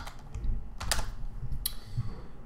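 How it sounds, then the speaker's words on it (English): Fingers type on a computer keyboard, entering login details: a short, close burst of irregular key clicks and taps with brief gaps, with no voices. "You're going to go ahead and type in your username"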